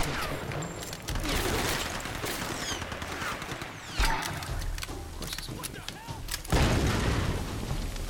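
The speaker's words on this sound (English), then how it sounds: "now with these guys shooting" Enemy gunfire in the 2013 Tomb Raider game, a dense run of overlapping shots and bursts with heavy booms at about four and six and a half seconds, loud and continuous with game sounds mixed in.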